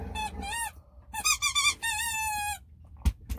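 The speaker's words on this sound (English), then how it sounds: "Fun squeaker toy, huh?" Squeaky dog toy squeezed repeatedly, giving a string of loud, high, wavering squeaks in uneven bursts up close, followed by a couple of dull thumps.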